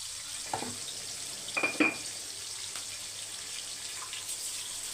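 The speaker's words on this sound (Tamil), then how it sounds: "இப்போ வந்து வெங்காயம் வதங்கிறதுக்கு தான் நம்மளுக்கு டைம் ஆகும்" Onions and tomatoes sautéing in a pan give a faint, steady sizzle with a few brief stirring scrapes, and no one speaks.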